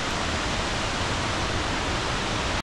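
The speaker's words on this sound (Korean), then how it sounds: "폭포" A waterfall at Plitvice Lakes National Park in Croatia roars in a continuous, dense broadband rush of falling water, loud and close, with no voices over it.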